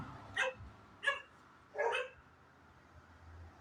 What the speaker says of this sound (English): And my neighbor's dogs next door.